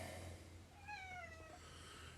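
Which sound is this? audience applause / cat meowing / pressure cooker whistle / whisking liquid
cat meowing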